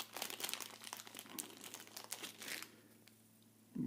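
Packaging around a roll of medical tape from a first aid kit is pulled open, close crinkling and rustling plastic for a few seconds, then a quiet pause before a brief thump.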